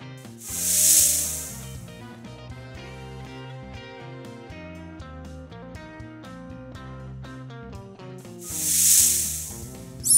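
Two loud hisses, like a snake, rise and fade a few seconds apart over a bed of soft background music.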